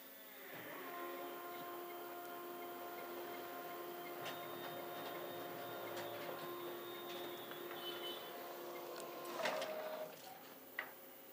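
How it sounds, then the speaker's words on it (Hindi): A Canon photocopier prints a job sent from a mobile phone, giving a steady mechanical whir with tonal hums and a few clicks and clunks near the end, heard up close with no talking. "प्रिंट जॉब सेंड हो गया, तो प्रिंट आपका हो गया।"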